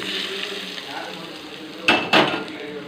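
Hot tempering oil poured into kara chutney, giving a brief sharp sizzle in two quick bursts over a quiet kitchen background.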